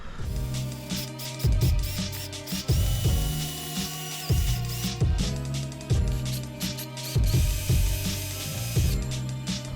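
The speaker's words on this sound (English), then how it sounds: "I'm just directly installing those tabs with my little 10mm, my trusty weapon" A small 10mm ratchet clicks in repeated strokes while fastening bumper tabs on a Nissan 350Z, close and loud, each stroke a short burst of ratcheting clicks in a steady rhythm.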